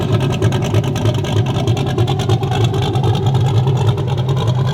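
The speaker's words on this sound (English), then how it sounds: "Huge top-mounted turbo Silverado." Big turbocharged Chevrolet Silverado pickup with a huge top-mounted turbo, its engine running loud and close in a steady, rumbling drone with a rough pulsing texture.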